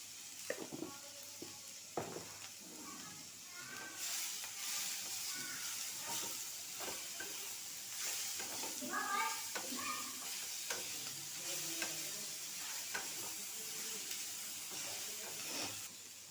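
Tomatoes with a little salt frying and being stirred in a pan for a fish sambar, a steady sizzle and hiss running throughout with repeated scraping stir strokes close by, no talking.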